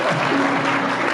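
Applause at a church wedding blessing ceremony: a dense, steady wash of clapping from a gathered congregation that fills the whole moment at an even, fairly loud level, with no pauses.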